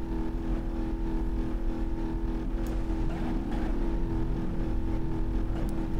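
A car engine in the BeamNG Drive driving game drones steadily and loudly throughout, with a constant low rumble and shifting pitch as it runs, no voices over it.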